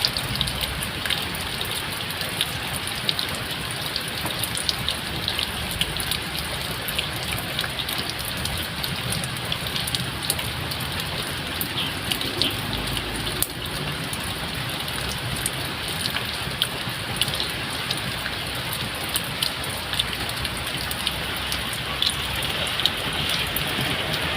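Steady rain falls on a home vegetable garden, a dense, even patter of drops on leaves and surfaces that continues without letup, close and fairly loud, with no voices.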